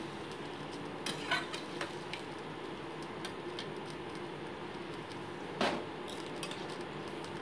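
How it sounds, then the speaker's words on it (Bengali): Vegetables being stirred into a watery curry in a pot give soft scraping and a few sharp utensil clinks against the metal, quiet and close with no talk. "ভালো মতো সবজিগুলোকে ঝোলের মধ্যে মিশিয়ে নিচ্ছি।"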